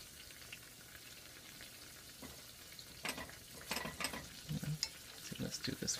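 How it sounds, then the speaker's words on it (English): Eggplant frying in a pan of oil sizzles softly and steadily while a utensil stirs it, with clattery scraping strokes growing louder and busier toward the end. "we'll just stir them and make sure these are fried."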